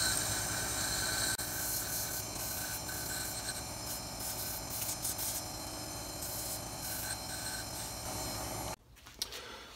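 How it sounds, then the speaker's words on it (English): A sheet of sandpaper is cut into strips at a woodturning bench, giving a steady close rasping, scraping texture that runs continuously for most of the stretch before stopping abruptly near the end. "I cut my sandpaper into strips like this."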